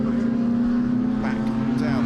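Radical race cars at a Snetterton club race: a loud, sustained engine drone as a car runs past close by, with a commentator talking over it.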